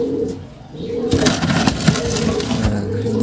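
Racing pigeons in a loft cooing up close, soft repeated low coos with wing flutters and rustling, no talk.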